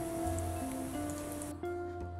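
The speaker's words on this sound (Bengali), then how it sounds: "একইভাবে আমি বাকি চপগুলো ভেজে নেব।" Puffed rice and potato chops deep-fry in oil, a brief steady bubbling hiss under a faint background hum, with a short drop partway.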